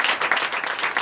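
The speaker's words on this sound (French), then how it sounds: "Donc je vous demande d'applaudir très fort." Congregation applauding loudly during a Sunday church service in Benin, dense, continuous clapping from many hands, close and energetic throughout the brief moment.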